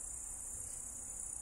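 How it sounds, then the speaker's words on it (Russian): Crickets chirp loudly and steadily in a summer evening setting among pine trees in St Petersburg, a dense high-pitched stridulation running without pause, close and continuous, with no talk over it. "что сверчки так громко?"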